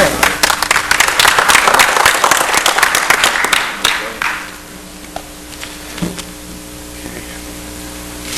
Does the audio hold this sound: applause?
yes